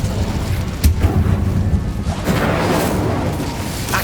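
An Incendio fire spell is cast in Hogwarts Legacy: a sharp thump near the start, then a rushing, crackling whoosh of flame that swells and holds over a dull background.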